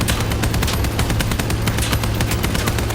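Machine guns fire continuously in the vehicle combat game Crossout, a loud, dense stream of rapid shots with heavy low rumble that holds steady for the whole stretch, with no voices.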